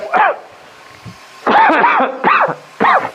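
Several short, hoarse coughs come in quick bursts close by, with brief pauses between them.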